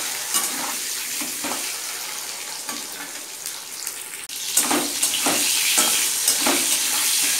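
Eggs frying in a pan give a steady hiss with scraping stirs, growing louder and denser toward the end; no one speaks.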